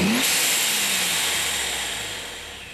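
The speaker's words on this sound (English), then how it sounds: "there was a fair bit of blow-off sound there" A supercharged Toyota Hilux engine is revved, with a sharp whoosh of the blow-off valve at the start, then a loud, steady engine drone that slowly fades. No one speaks.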